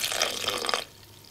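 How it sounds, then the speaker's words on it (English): Water is poured from a jug into a lamb dish in a wartime kitchen, a brief splashing trickle lasting under a second that then stops, leaving a quiet room. "Drop of water, not too much, because we don't want to drown it"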